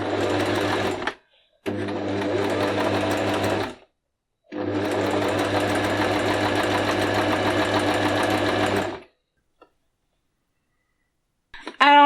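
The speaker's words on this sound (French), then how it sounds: "je vais lui demander de coudre un voilage" A Silvercrest SNM 33 C1 sewing machine stitches voile curtain fabric in three loud, rapid mechanical bursts, a short one followed by two longer runs, separated by brief silent pauses.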